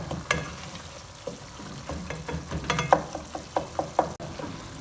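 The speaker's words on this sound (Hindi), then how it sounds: "यहाँ सबसे पहले हम मसाले की अच्छी तरह से मीडियम हाई फ्लेम पर भुनाई करेंगे" Masala and softened tomatoes roasting in a pan over a medium-high flame, with a low steady sizzle broken by a run of sharp, regular spoon knocks and scrapes against the pan, close and alone.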